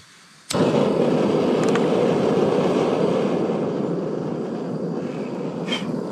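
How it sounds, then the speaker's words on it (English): Camp stove outdoors at a Michigan campsite, ignited with a sudden click and whoosh, then a steady loud roaring burner flame that continues alone with a few faint clicks. "Okay, fire up my stove."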